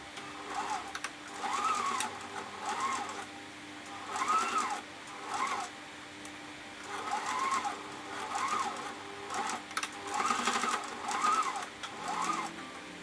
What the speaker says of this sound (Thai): เมื่อได้แบบนี้นะคะเราก็จะนำไปเย็บปิดช่องเลยค่ะ